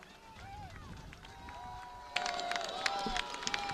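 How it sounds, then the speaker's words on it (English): A raucous crowd roars at a night football game against Salem, a steady wash of cheering that swells louder and busier partway through, with shouts and whistles over the din. "The crowd is getting raucous"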